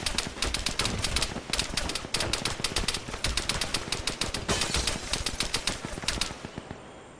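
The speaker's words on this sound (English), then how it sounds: "Look at that incoming fire." Rapid, sustained bursts of incoming automatic gunfire in the video game Arma 3, dense rattling shots nearly nonstop for several seconds before tapering off.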